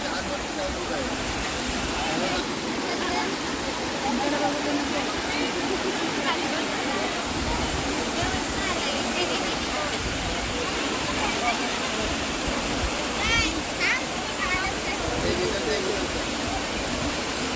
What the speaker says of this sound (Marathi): मंडळींनो हे बघा इकडे वॉटरफॉल आहे